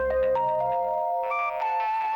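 A phone rings in a Hindi-language animated series: a loud, close electronic ringtone melody of steady synthesized tones, playing alone without any talking.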